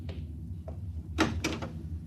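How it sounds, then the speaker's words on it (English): A door opening aboard a spaceship compartment in an old radio drama, a faint click followed by a louder sliding mechanical rush and a second burst, with a low hum underneath. "Open the door."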